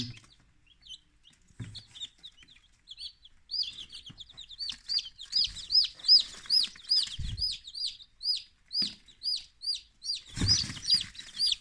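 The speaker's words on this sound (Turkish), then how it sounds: "Bu şekilde civcivlerimiz çıkmış bulunmakta" Newly hatched chicks in an incubator give a steady run of high, rapid peeps that build into a dense, repeated chorus close by, with occasional low bumps and handling noises underneath.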